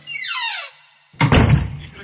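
A room door in a lodge is shut with a solid thud, following a rising squeak or whine, close and loud.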